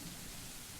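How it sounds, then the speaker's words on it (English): Steady early-morning rain falling in a dense, even hiss, soft and unbroken for a brief moment with no other sounds. "The rhythmic pitter-patter of the rain fills the early morning silence with a steady beat."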